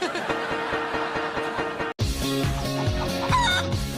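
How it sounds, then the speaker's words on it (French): A chicken clucks and crows in a cartoon-like kitchen scene, with short, close squawks over background music. "Est-ce que vous auriez vu un poulet à peu près de cette taille"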